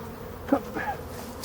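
Local Breton black honeybees buzzing at a hive as a swarm is moved from a nucleus box, with a couple of short near buzzes over a quiet background.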